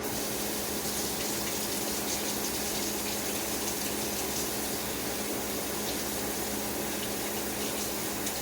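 Water runs steadily into a sink while a whisk is rinsed, a constant close gush with no pauses.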